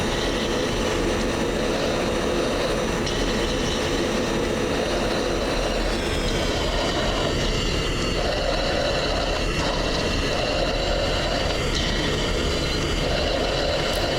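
F-16 jet engine roaring during takeoff in a flight simulator game, a dense, steady, loud rush with a high whine that shifts slightly partway through, continuous and with no talking.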